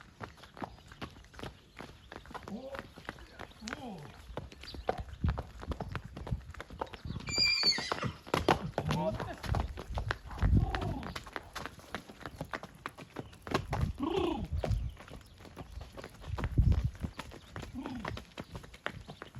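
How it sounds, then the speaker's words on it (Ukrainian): A four-year-old draft mare whinnies loudly while hooves clop steadily on hard ground, with scattered voices and bustle around it. "Кобила дочка Буцефала 4 роки"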